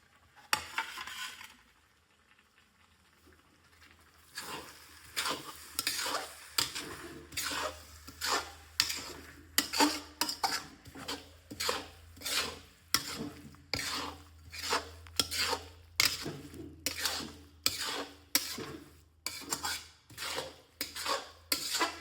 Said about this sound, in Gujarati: આને સારી રીતે મિક્સ કરવાનું રહેશે.